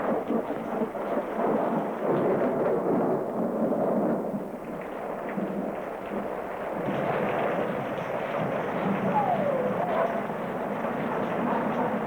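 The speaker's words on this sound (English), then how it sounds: "the rain continued to fall" Heavy rain pours steadily through a flood storm, a dense, constant roar with low rumbling swells and no voices, staying loud throughout.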